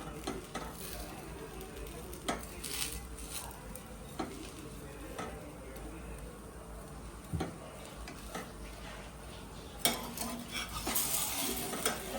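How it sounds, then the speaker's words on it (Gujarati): A sandwich with extra cheese toasts on a flat griddle (tavi), giving a steady low sizzle with light scraping and clinks of utensils against the pan. A few sharper taps come through, with no one talking. "હવે તવી ઉપર શેકી દઈશું"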